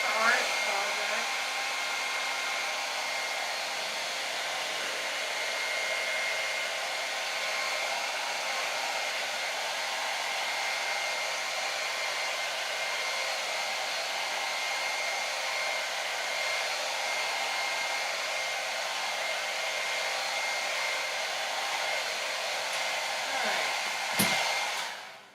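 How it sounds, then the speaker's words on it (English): An old broken hair dryer on its hot setting blows continuously at a steady high whine for a long stretch, loud and close, cutting off briefly near the end. "Hot setting on my dryer. It's an old broken hair dryer."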